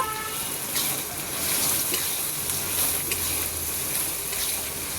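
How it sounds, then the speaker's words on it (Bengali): Ginger garlic paste fries in hot oil for a katla fish tel jhal, giving a steady, moderately loud crackling sizzle that carries on without pause. "একটু ভাজা রসুনটা তো একটু ভেজে নিতে হয়"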